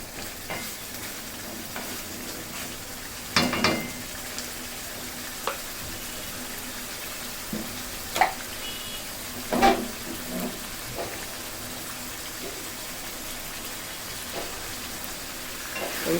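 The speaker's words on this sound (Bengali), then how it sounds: "সাথে মশলার সাথে আমি চিকেনটাকে কষিয়ে নিব। এটাও ঢাকনা না দিয়েই কষাতে হবে।" Chicken sautéing with spices in an uncovered pot, a low steady sizzle with occasional sharp clinks and scrapes from stirring scattered through, close and fairly quiet, no talking.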